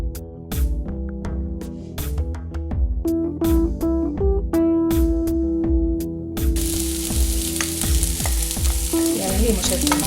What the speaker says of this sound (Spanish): Las rehogaré un poquito, bastante menos que la zanahoria, y acabaré agregando el tempe.